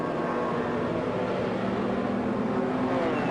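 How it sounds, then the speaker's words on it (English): Sports and GT race cars roar past on the front straight at Pukekohe during a 1994 one-hour enduro, a loud dense engine drone filling the whole stretch without letup. "as Owen Evans come by down the front straight at Pukekohe"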